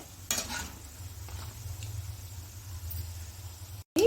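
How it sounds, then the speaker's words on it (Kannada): Snacks such as bonda and pakoda deep-fry in hot oil until golden brown, giving a steady close sizzle over a low rumble with a few brief stirring scrapes and no talking. "ಎರಡು ಕಡೆ ಚೆನ್ನಾಗಿ ಗೋಲ್ಡನ್ ಬ್ರೌನ್ ಬರೋವರೆಗೂ ಫ್ರೈ ಮಾಡಿ ತಗೋಬೇಕಾಗತ್ತೆ"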